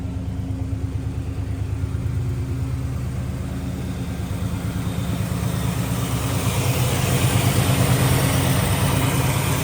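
A 1970 Chevrolet Chevelle with a mild street performance cam and dual exhaust idles steadily, a close, smooth low rumble with even pulsing that swells slightly toward the end.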